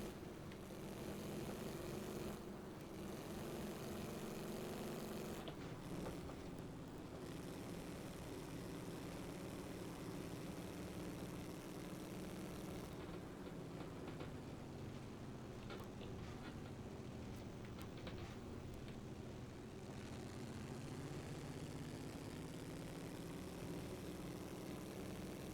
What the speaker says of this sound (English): the sound of the engine.